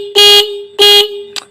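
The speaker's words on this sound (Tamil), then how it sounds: "இப்போ நம்ம ஹார்ன் அடித்து பார்க்குறோம்." Bajaj Pulsar motorcycle horn sounded close up in two loud, sustained honks followed by a short final blip.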